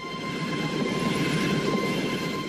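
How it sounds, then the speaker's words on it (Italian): A train running on rails, a loud continuous rumble of wheels with a steady high whine over it, close by and heard alone. "c'è un treno che corre, che va avanti"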